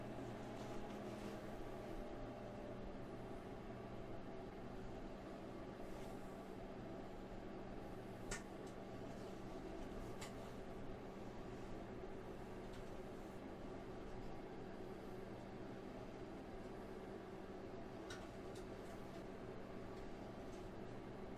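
A microwave oven runs with a steady low hum, while food inside gives only a few faint, scattered pops and ticks.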